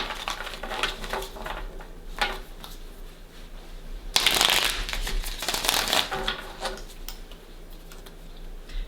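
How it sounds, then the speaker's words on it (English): Playing cards riffled and shuffled close by, several short bursts of rapid flicking with a louder riffle in the middle, no talking. "couple more shuffles here."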